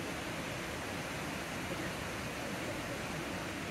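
Water of Devil's Bridge waterfall pouring down from above, a steady, unbroken broadband roar that holds at an even level throughout with no other sounds.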